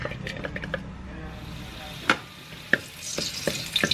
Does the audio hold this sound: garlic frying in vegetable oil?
yes